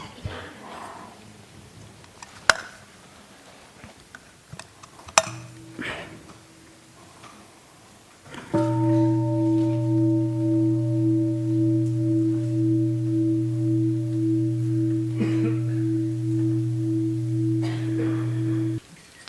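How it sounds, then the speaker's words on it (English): A Buddhist mindfulness bell is struck once and rings out loud and sustained with a steady humming tone and overtones that linger for about ten seconds, after a stretch of faint room noise with a few small taps. "let's listen to one sound of the bell"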